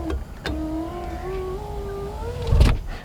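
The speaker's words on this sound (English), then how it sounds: "Number one is the power window. It still works, of course, but it is very loud." The power window on a 2019 Proton Iriz hatchback runs with a loud, rising motor whine lasting a few seconds, framed by clunks and ending in a rough judder near the end.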